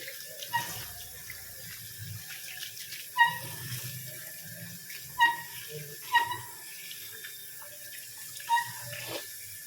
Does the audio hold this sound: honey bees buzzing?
no